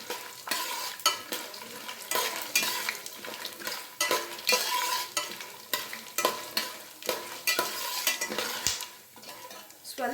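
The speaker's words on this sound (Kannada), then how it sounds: "ಸ್ವಲ್ಪ ಬಣ್ಣ ಚೇಂಜ್ ಆಗೋ ತನಕ ಹಾಗೆ ಎಣ್ಣೆಯಲ್ಲಿ ಫ್ರೈ ಮಾಡ್ಕೊಂಬೇಡ" Six chilies tempering in hot oil for mango rice while a spoon scrapes and stirs the pan in quick repeated strokes, close up and fairly loud, with no talking.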